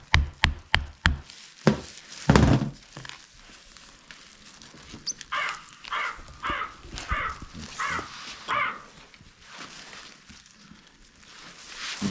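Crow caws set as a phone ringtone repeat in a steady series of harsh calls, preceded by several sharp knocks from a screwdriver loosening hide at the base of a buck's antler.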